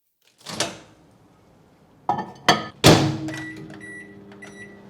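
Frozen berries go into a microwave oven: sharp clunks of the door and buttons, a few beeps, then the low steady hum of the oven starting to run, close by with no talking.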